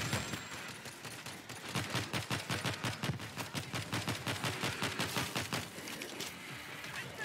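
Rapid gunfire rings out in a zombie video game packed with mutators, a dense run of sharp repeated shots at a fast steady rhythm, loud and close with no talk over it.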